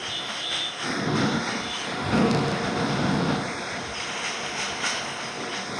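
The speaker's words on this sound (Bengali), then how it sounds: "তো চলো ট্রেনটা আগে পিছনে নিয়ে যাই।" In a video game, a train reversing rumbles and hisses steadily, with a low surge of rolling noise swelling in the middle and fading slightly toward the end.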